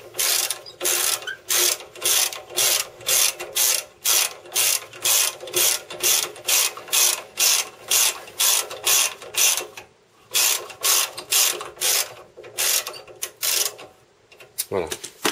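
A ratchet wrench retightens a brake caliper bolt on a Citroen C5 2.2 HDi during rear pad replacement, giving rapid repeated close clicking strokes in steady bursts with brief pauses.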